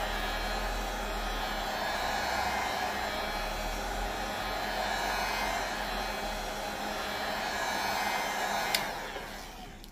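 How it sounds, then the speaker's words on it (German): An industrial heat gun blows steadily at close range, drying acrylic paint on a door; a continuous loud rushing roar holds for nearly ten seconds before cutting off near the end. "Es geht ziemlich schnell mit diesem Industrieföhn."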